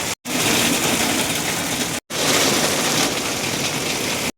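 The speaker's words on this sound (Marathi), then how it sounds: "पाऊस खूपच डेंजर आहे बघा" Heavy monsoon rain pours down in the Konkan, a dense, loud, steady roar of downpour that continues without a break apart from two brief dropouts.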